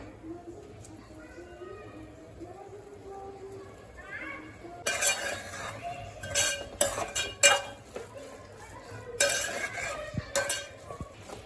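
Metal spatula stirring and scraping a pan of ola jawla (fresh tiny shrimp) sautéing with kokum, with a faint sizzle. Clanks and scrapes come in bursts through the second half, and a voice sits in the background.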